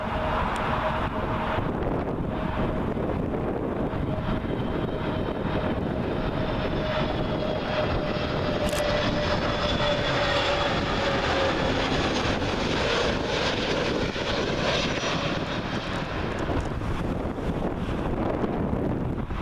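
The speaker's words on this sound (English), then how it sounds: "we got another A320neo, this time for British Airways, and this one has arrived from Rome" A British Airways Airbus A320neo arriving from Rome comes in to land at Heathrow's runway 27L, a steady broad jet roar with a faint sliding whine, mixed with wind buffeting on the microphone throughout.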